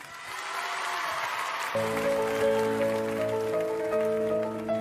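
A television talent-show audience applauds, a broad hiss of many hands that continues steadily while music with sustained tones enters partway through.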